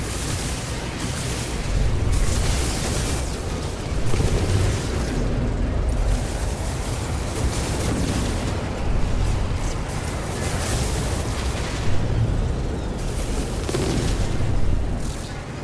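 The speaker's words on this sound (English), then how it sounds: "Incoming missile neutralized." Enemy missiles explode in rapid succession during a space battle in No Man's Sky, a dense, continuous roar of loud booms and bursts with no talk over it.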